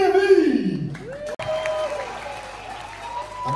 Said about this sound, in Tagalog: Ang hina ng palakpak nyo.